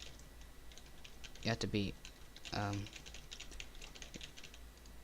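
Light keyboard tapping on a computer keyboard, keys W, A, S and D pressed for moving in a game editor, faint and steady beneath a man's speech.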